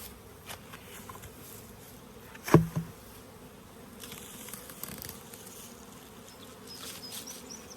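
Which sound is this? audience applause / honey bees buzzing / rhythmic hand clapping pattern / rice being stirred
honey bees buzzing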